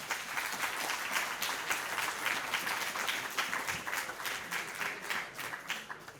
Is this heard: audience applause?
yes